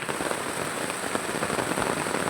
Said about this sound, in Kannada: ಈಗ ಮಳೆ ಬರ್ತಾ ಇದೆ